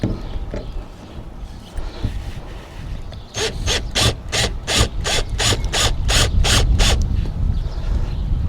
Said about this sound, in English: So I'm just wanting to start the screws off really,